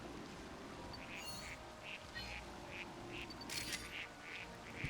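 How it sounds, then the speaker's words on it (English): Ducks in Pokemon Legends Arceus quack faintly and repeatedly in a loose, steady rhythm, sounding distant over a soft ambient background. "I can hear ducks."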